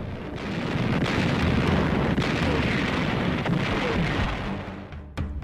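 Heavy naval gunfire bombardment of the Okinawa landing site by a World War II warship task force, heard as a dense, continuous, roaring rumble of blasts, loud and sustained, then easing near the end, with no talk.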